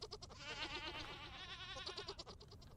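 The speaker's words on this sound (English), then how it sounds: "Okay, let's get all of the goats, all the babies out of here." Goats and baby goats bleat repeatedly, overlapping wavering cries close by, in the survival video game Vintage Story.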